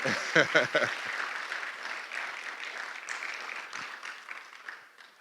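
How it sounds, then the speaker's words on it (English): A room full of people clapping, steady and moderately loud, with a few voices murmuring underneath as it slowly fades. "Yeah, thank you for the clap. You can clap."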